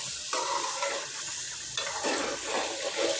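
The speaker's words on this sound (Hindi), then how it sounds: "इसमें मैंने काली मिर्च और सफ़ेद ज़ीरा जो है वो डालकर इसको अच्छे से भुना है" Chicken karahi frying in a pan with black pepper and cumin, a steady close sizzle with stirring scrapes that swell in bursts, no talking.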